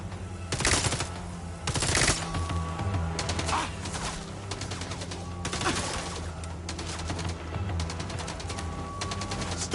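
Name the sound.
gunfire from the video game Mindseye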